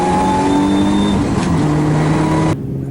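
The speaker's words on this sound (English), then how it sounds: "You can hear the tyres scrubbing on the brakes." Race car lapping a circuit at a national Evolution shootout, its engine droning steadily with harmonic tones as it brakes hard into turn 8, tyres scrubbing under the load before the sound cuts off abruptly near the end.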